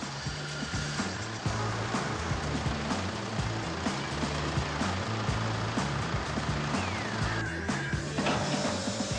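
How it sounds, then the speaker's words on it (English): Mercedes-Benz C-Class W204 engine idling while the power steering pump is bled, a steady close mechanical hum with faint rhythmic pulsing and a brief rising whine near the end. "Let the engine run for about a minute without moving the steering wheel."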